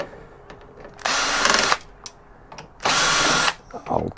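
A power drill backs screws out of the rear of a vintage Televideo TS816/40 computer, with two loud whirring bursts of under a second each, separated by small clicks and handling noises close by.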